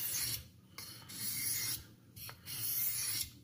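French Thiers pocket knife blade scrapes across a Novaculite sharpening stone in repeated rasping strokes, about five passes with brief pauses between, close and steady with no talking.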